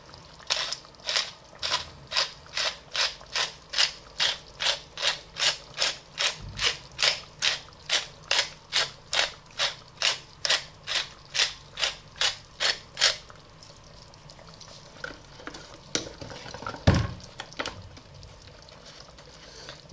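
Black pepper ground from a mill into beef bourguignon, about thirty rapid, even ratcheting clicks over thirteen seconds, then quieter kitchen handling and one low thump.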